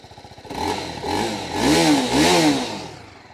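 A TVS Apache RR motorcycle engine putters at idle, then revs up twice in rising, falling swells before settling back, close and loud.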